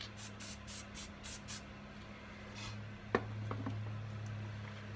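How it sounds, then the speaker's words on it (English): Spray adhesive hisses onto the back of a stencil in several short rhythmic bursts, then fades to quiet room tone with a sharp click and a few light taps, close and fairly soft, without speech. "you're just going to do a quick, gentle mist from about a foot and a half away onto the back side of your stencil"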